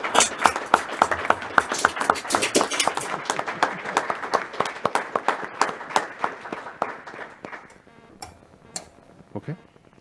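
A round of applause for Warren, a retiring colleague, at a New York State Public Service Commission session: dense, steady clapping from a room of people that thins out toward the end, followed by a few isolated claps.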